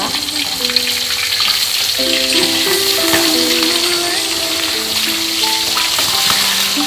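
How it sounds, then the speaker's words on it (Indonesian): Ground spice paste frying in a wok, a steady loud sizzle with crackling running throughout, while faint voice-like tones drift underneath. "Ini kita goreng dulu ya pemirsa."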